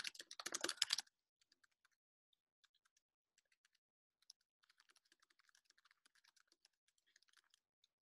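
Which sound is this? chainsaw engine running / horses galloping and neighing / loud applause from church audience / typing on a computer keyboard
typing on a computer keyboard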